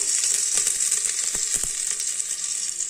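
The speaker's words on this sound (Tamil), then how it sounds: "இஞ்சி பூண்டு பேஸ்ட்டு நல்லா ஒரு வதக்கு வதக்கினதுக்கப்புறம்" Ginger garlic paste and spices sautéing in a pan, a bright steady sizzle with a few light stirring taps, close and alone without speech.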